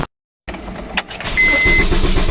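A Honda Accord with a crankshaft position sensor fault cranks for a delayed start. After a moment of silence the starter grinds in, then the engine steadies into a loud, continuous running rumble close by.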